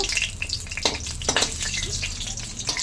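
Water lily stems fry in a pan with a crackling sizzle, broken by a couple of sharp scraping bursts as the pieces are turned over. The sound is close and no one speaks.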